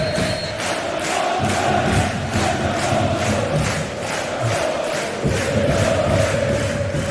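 Dense stadium crowd at a German second-division football match, sustained loud cheering and chanting with a steady roar and pulsing rhythmic surges throughout.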